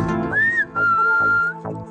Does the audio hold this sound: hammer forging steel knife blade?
no